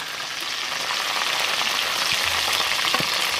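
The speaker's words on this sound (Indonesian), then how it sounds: "Sekarang ngulik bumbu ini." Spice paste sizzles and is stirred in a pan during a first cooking session at a basecamp, a steady dense frying hiss with a few scraping stir strokes, close and continuous with no talk.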